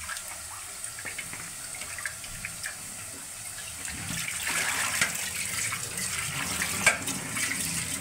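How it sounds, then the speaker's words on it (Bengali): Drumsticks (moringa pods) are washed under a running kitchen tap, with a steady stream of water splashing and gurgling that grows louder and busier in the second half. "সজনের ডাঁটাগুলা ভালো করে এখন ধুয়ে নেবে।"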